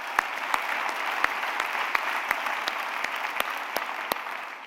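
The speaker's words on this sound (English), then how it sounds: "Please give another round of applause to Tom Perez for being such a great partner." A large audience at a Civil Rights Act 50th anniversary event applauds steadily, a dense wash of clapping with sharp individual claps standing out near the microphone.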